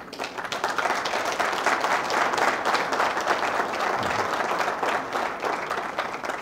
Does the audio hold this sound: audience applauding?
yes